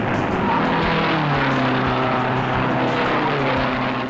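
Open-wheel race cars roar past at full throttle at the Indianapolis 500, Jim Clark shifting into high gear, a loud, dense, continuous engine howl with layered rising and falling pitches and a rushing crowd-and-wind wash.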